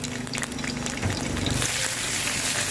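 Chinese kale hits a hot wok of stir-frying shiitake mushrooms over medium heat for yakisoba, a few scraping clatters giving way to a loud, close, rising sizzle with no voices.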